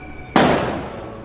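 A single Diwali firework goes off with a sudden loud burst, then a crackling roar that fades over about a second, close and alone with no voices.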